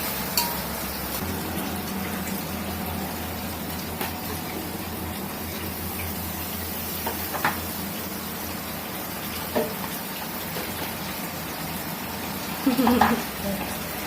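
Garlic and ginger paste frying in a pan, giving a faint continuous sizzle under light kitchen clatter, with a few knocks and scrapes and a louder clatter near the end.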